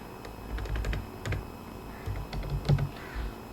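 Words typed on a computer keyboard, a quick run of close, light key clicks in short bursts with brief pauses between them, and no talking.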